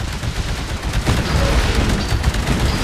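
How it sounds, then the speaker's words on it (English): Rapid gunfire crackles nonstop in the Titanfall video game, with a grenade blast mixed into a loud, dense battle din that swells slightly toward the end. "Throw that grenade out there."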